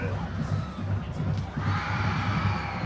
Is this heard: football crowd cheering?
yes